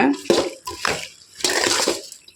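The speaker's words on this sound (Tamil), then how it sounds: "புளியை கரைச்சி தண்ணியை இதில் ஊற்றிடலாம்" Tamarind water is poured into a pot of Thiruvathirai vegetable curry, splashing and gurgling in two loud bursts with a short pause between, close by; a voice is briefly heard.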